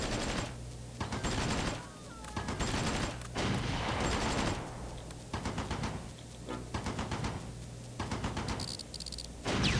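Gunfire in the wargame Close Combat: Invasion Normandy, bursts of rapid machine-gun and rifle fire in repeated volleys with a constant chirping ambience between them.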